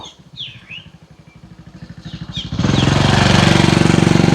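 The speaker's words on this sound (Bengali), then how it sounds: "হে মোটর বাইক গেল" A motorbike passes along a village lane in Munshiganj, Bangladesh, its engine pulsing rapidly and growing louder until it roars up close and fills the sound, with a few bird chirps faint in the background.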